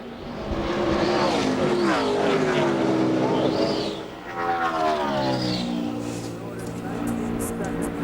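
NASCAR stock cars racing in the Brickyard 400, engines roaring loudly and sweeping past in rising and falling passes, with a commentator talking over the race throughout.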